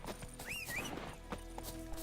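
Horse arriving on call in the video game The Witcher 3, a whinny with clip-clopping hooves over a steady game backdrop, fairly close and brief.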